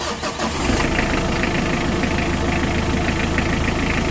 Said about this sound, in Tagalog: pa-start ko na itong makina.